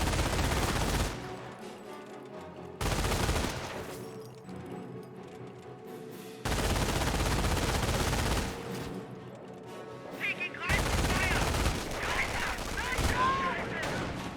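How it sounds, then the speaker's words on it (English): Sustained machine gun fire in Company of Heroes, a World War II strategy game with American riflemen and German Volksgrenadiers, comes in long loud bursts separated by short gaps, with battlefield noise throughout. "firing away, suppressing on the rifleman"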